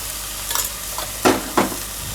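Spices including coriander-cumin powder and red chilli powder are stirred in a frying pan over a low sizzle, with a few distinct scraping strokes of the spoon, close and moderately loud, no talking.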